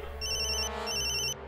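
Telephone ringtone after a call is placed, two electronic ringing bursts separated by a short gap, clear and close.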